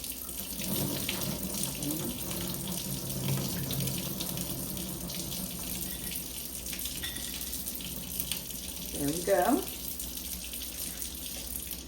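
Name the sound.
tap water rinsing kidney beans in sink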